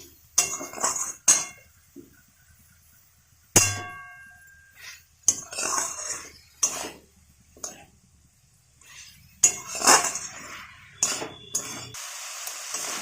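Snake gourd curry stirred in a metal pan, with repeated ringing clangs and clinks of the utensil against the pan at irregular intervals, broken by short pauses and a voice talking between strokes.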